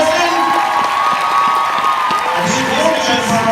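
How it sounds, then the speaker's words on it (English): Crowd applause and cheering at a fan convention honoring the North Texas 501st Garrison, a dense continuous clapping wash with scattered shouts and a voice on top. "let's give a round of applause for our North Texas 501st Garrison"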